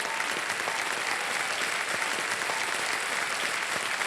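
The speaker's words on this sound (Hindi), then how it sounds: "तालियां बज जाए" A studio audience on the Kaun Banega Crorepati game show claps loudly and steadily, a dense, continuous wash of applause with no talking over it.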